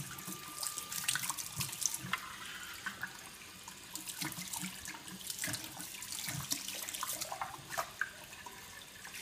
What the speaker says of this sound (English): Are you cleaning the sink?